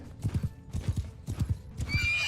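Horses ridden by horse archers in the Mount & Blade 2 Bannerlord video game, a close, rhythmic clip-clop of hooves in quick pairs, closing with a horse's whinny.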